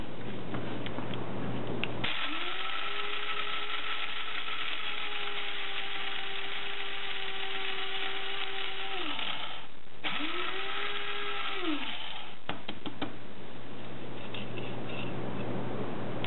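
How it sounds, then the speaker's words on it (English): Small electric kitchen grinder whirring at a steady pitch as it pulverises brittle dehydrated onion pieces into powder, one long run of about seven seconds, a brief stop, then a shorter second burst, close and fairly loud. "how to make your own onion powder. In my handy grinder."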